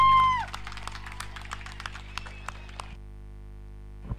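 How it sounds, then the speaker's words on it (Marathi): Spectators clapping for both teams at a cricket match in the Legend Trophy 2024 tournament, Bhandup Strikers versus F M Kandhari King Bandra; scattered, sparse claps heard at a distance over a steady background hum, fading out after a few seconds. "सर्व प्रेक्षकांना विनंती आहे, यात खेळ आवडला असेल तर दोन्ही टीम साठी एकदा जोरदार टाळ्या होऊन जाऊ द्यात"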